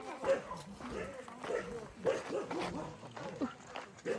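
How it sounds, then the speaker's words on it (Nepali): Several dogs bark and yip around homes in the Beldangi refugee camp, short irregular bursts mixed in with close conversational talk. "बेलडाङ्गी 3 मा चाहिँ साह्रै कुकुर रहेछ है"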